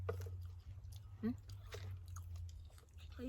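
Crisp, intermittent chewing of fresh starfruit picked from the tree, close to the mouth over a steady low hum, with a few soft crunchy bites and faint voices nearby.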